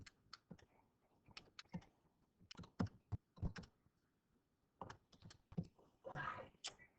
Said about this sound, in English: And then you can just type the whole thing in your calculator.